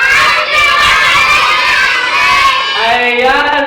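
A group of children shout happy birthday together at a seventh birthday party, a loud sustained unison cheer that stays strong for several seconds before trailing off into excited voices.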